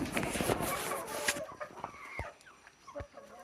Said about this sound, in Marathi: हा बघा कसा कोंबड्यांना बोलवतो खाण्यासाठी